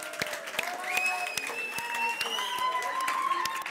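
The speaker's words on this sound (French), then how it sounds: "Vous pouvez les applaudir tant qu'ils arrivent." A youth gathering audience claps steadily as people make their way onto the stage, with sharp nearby claps over a general crowd applause and voices talking and calling out underneath.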